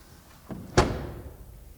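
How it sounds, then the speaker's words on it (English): A Volkswagen T-Roc R SUV door swings shut with a single solid, muffled thunk, preceded by a faint softer knock, close by and otherwise quiet with no talk. "the door closing sounds here everywhere. This is something they've really figured out"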